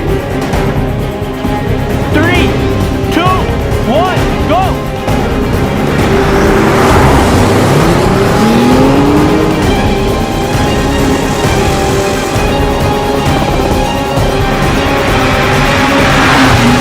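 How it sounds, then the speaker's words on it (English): A BMW i8 and a BMW 3 Series racing each other, with loud engine roar and rising, revving pitch sweeps as the cars accelerate and pass, continuous throughout. "we're actually going to be having a race, the BMW i8 versus the BMW 3 Series"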